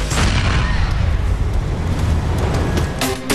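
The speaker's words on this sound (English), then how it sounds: "extremely entertaining crashes, which tend to end in violent explosions" Car crash explosion in Grand Theft Auto IV, a dense, continuous roaring rumble of fire and debris, loud and near, with crackling bursts near the end and no talking.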